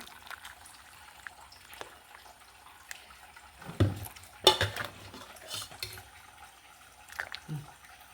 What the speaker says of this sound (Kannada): ಇದನ್ನು ಪಾತ್ರ ಕೆಳಗೆ ಇಟ್ಕೊಂಬ ಸಾರು ಬಗ್ಸ್ಕೊಂಬ ಬೌಲಿಗೆ